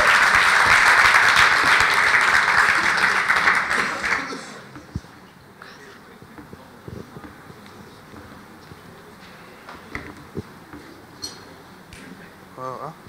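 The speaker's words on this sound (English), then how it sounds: "An applause for him." Audience applause at a startup competition finals event, loud and sustained for about four seconds, then fading to scattered claps and light stage noise.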